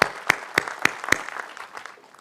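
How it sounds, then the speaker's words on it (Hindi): A few sharp, evenly spaced hand claps, about five in quick succession, greet the noni master at an Atomy India felicitation gathering. They fade into a soft scattered patter by the end. "इनके जोरदार तालियां दिया जाए"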